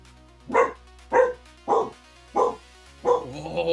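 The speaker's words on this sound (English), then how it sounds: "Hopefully the barking's not too loud." A dog barks five times in an even, evenly spaced sequence at close range indoors, each bark sharp and loud, with a low background hum and no talking.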